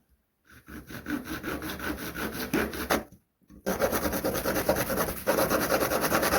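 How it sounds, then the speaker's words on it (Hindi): Material is cut by hand to make a battery holder for a homemade 5V rechargeable soldering iron: steady, rapid back-and-forth sawing strokes, a brief pause, then louder continuous rasping, close up. "तो कटिंग कर लेते हैं और इसका होल्डर बना लेते हैं"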